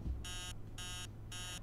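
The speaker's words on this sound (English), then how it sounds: "That alarm clock is so annoying." An alarm clock rings in the horror video game Emily Wants To Play Too, sounding three even bursts of bright electronic beeping separated by short gaps, loud and close over a low steady background hum.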